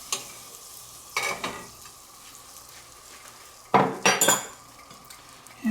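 Butter being spread around a pan with a utensil before buns go in for toasting: a few short scraping, clinking bursts with quiet gaps between, close and fairly soft, no talking.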